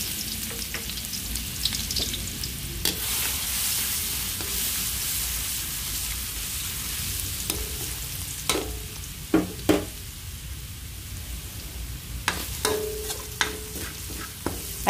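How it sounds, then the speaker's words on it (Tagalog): Garlic sautéing in oil in a frying pan for pinakbet, a steady close sizzle with occasional sharp clinks and scrapes of a utensil stirring through it. "Igisa ko na ang bawang."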